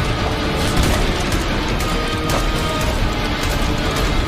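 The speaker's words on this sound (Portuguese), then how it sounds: "Explosão." Explosion in the horror train game Choo Choo Charles, a loud, sustained roaring blast with crashing debris that fills the whole stretch at near-constant intensity.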